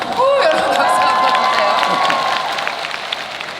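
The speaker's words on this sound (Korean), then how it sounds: "여러분 박수 한번" A crowd bursts into loud, close applause mixed with cheers and high whoops. The clapping holds steady for a few seconds before easing slightly.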